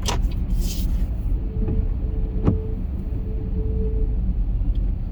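Morning road traffic in Los Angeles heard from inside a moving car near the Los Feliz exit: a steady low cabin rumble with a faint passing whoosh and a brief tone, no talk.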